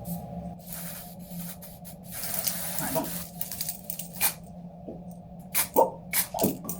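Colour spray applied to a wig, bursts of hissing spray, the longest near the middle, mixed with soft squishing and handling noises, close and moderately loud with no talking.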